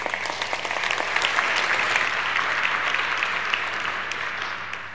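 Sustained applause from a research summit audience for a speaker, a broad, even wash of many hands clapping that holds steady for about five seconds before easing slightly at the end.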